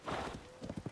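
Horse hooves clip-clopping in the video game Zelda Tears of the Kingdom, a short run of dull hoof beats over a loud muffled background wash.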